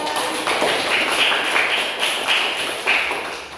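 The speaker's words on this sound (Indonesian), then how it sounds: "Nah, tepuk tangan semuanya." Schoolchildren clapping their hands together in an elementary classroom, a dense, steady round of claps with a few louder bursts, fairly close and lasting the whole stretch.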